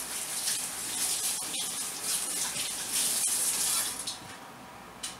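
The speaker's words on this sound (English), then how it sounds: "My favorite knife. I have to wash it." A kitchen knife being washed under a running tap, with steady, loud water gushing into a sink for the whole stretch and occasional brief clinks over the flow.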